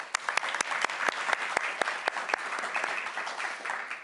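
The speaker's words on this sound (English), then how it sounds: "one more big round of applause for all our speakers" An audience at a university surgery research symposium gives a round of applause for the speakers: sustained, fairly close clapping with distinct sharp individual claps standing out across the whole stretch.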